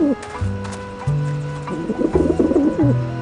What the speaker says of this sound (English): Ah, the pigeons obviously like this dish vent.